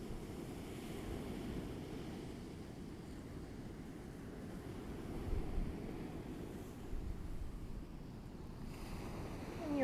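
Ocean surf at a beach, a continuous low rumbling wash of waves with some wind noise on the microphone, steady throughout with a slight swell near the middle.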